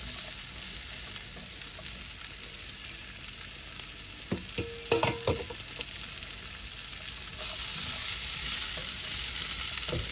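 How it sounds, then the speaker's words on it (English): Steady sizzling of sausages frying in a pot, with a few clinks of a utensil stirring midway; no voices. "they'll just take a few minutes of frying up, just get the cooking started, soften them up a little bit"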